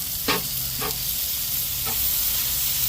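Burger patties sear and char on a hot griddle for a chopped cheese sandwich, a loud, continuous sizzle broken by a few short scraping strokes, with no voices.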